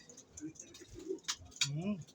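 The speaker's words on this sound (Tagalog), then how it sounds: "Ito ang kanyang mga ibon." Soft coos from fancy pigeons in a loft close by, a few low rolling calls with faint chirps and a murmuring voice in the background.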